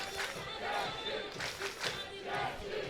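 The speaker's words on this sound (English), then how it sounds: "the crowd is getting loud" Baseball stadium crowd at a Czech Republic versus France game swells into a sustained roar of cheering voices, steady and fairly far off.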